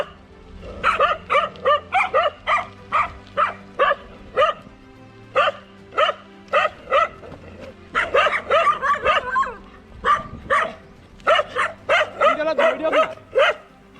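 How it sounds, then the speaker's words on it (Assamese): Dogs barking by a roadside in a village, a rapid series of sharp barks and yips in bursts, fairly close and loud, with a few whimpers between. "কুকুৰকেইটা দেখোন পিছাই নাৰাখোন"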